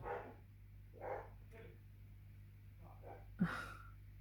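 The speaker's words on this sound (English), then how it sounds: "That's my dog protecting us" A household dog barks at the mailman from indoors, a few short, scattered barks spaced about a second apart, heard faintly and somewhat distant, with a voice talking nearby.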